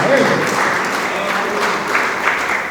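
A church congregation claps for God during a sermon, a thick, close, sustained wash of applause throughout, with no clear voices over it.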